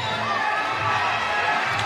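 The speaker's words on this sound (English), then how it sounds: "Crowd goes back crazy." A wrestling arena crowd roars in a sustained, dense wall of cheering and shouting after a tag in a tag team championship match, loud and continuous.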